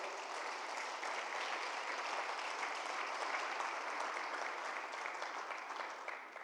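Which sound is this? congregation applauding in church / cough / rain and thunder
congregation applauding in church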